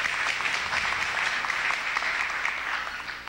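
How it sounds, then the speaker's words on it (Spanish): Sustained applause from a conference audience at an internet and human rights forum, a dense steady clatter of many clapping hands that fades slightly toward the end. "Aplausos para María Cristina"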